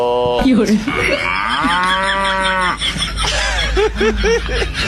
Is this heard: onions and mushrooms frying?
no